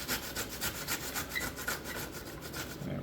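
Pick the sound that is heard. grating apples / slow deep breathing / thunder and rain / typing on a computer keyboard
grating apples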